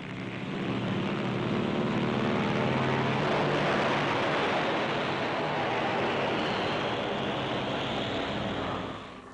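A C-47 aircraft in flight towing paired gliders gives a loud, steady broadband engine drone with a rushing wind roar, sustained and unbroken for over nine seconds, fading slightly at the end.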